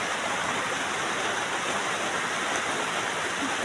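Floodwater flows in as a dense, continuous rushing hiss, steady and fairly loud, with no voices over it.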